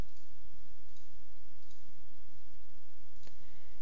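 A computer mouse gives a few sparse, sharp clicks against a quiet background, one crisper click standing out near the end, with no talking.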